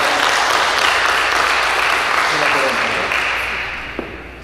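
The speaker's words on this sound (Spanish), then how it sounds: "Pues un aplauso para Gabriela" Applause for Gabriela during her quinceañera mass, a loud, dense wash of clapping that holds steady and then tapers off near the end, with a few voices mixed in.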